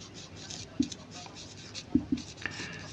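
A pen writes out a hand-worked maths solution on paper for a Class 5 primary lesson on averages: quiet continuous scratching strokes, punctuated by a few sharper taps as the pen touches down.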